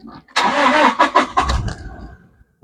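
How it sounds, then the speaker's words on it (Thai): A 2016 Toyota Hilux Revo Smart Cab pickup's 2.4-litre engine cranks briefly and catches, roaring up loudly before settling into a steady, lower idle. "เรามาสตาร์ทเครื่องฟังเสียงดูนะครับผม"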